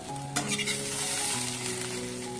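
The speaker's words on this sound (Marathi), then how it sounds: "थोडं थोडं तेलात फ्राय करून घेते" Cut okra (bhindi) fries in hot oil, a steady close sizzle and crackle that carries on alone from start to finish with a faint background hum.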